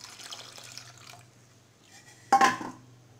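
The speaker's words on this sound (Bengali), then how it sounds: "দেখো ডালটা সিদ্ধ হয়ে গেছে, এইবার আমি এর মধ্যে পরিমাণ মতো জল দেব।" Water poured into a pot of boiled moong dal, a short splashing gush near the end after a stretch of quiet kitchen clatter and faint drips.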